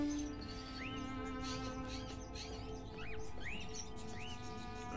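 Caged crows in a hallway room of the Fahrenheit video game give repeated rising, chirp-like calls over a steady humming game ambience, with no talking.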